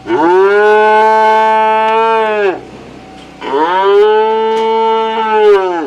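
Feeder steers in a pen give two long, loud, close moos separated by a short pause.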